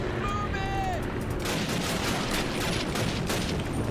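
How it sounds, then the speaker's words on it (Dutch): Gunfire in Call of Duty, a continuous crackle of shots from somewhere nearby, blending into steady battle noise with brief tonal game sounds at the start. "er wordt geschoten ergens vandaan"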